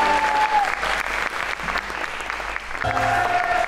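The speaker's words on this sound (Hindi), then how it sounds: "तालियां" Steady applause from a talk show studio audience, loud and sustained for several seconds, with a faint tone running underneath.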